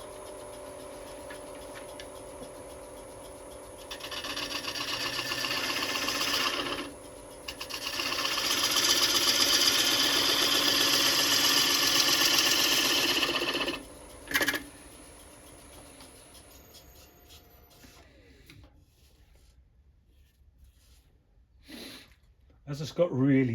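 A wood lathe turns a large live edge ash bowl, its motor whirring steadily in two long stretches with a brief pause, then winding down to quiet with a few knocks at the end.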